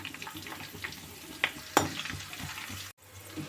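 Curry leaves sizzle and crackle steadily in hot oil in a pan, with a couple of sharp pops and a brief stir before a sudden cut.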